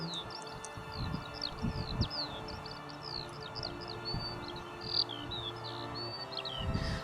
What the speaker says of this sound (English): especially for the skylark, whose distinctive song is the sound of summer for anyone enjoying these footpaths.